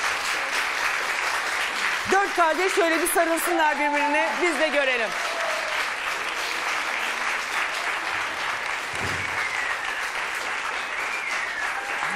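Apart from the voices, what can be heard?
studio audience applause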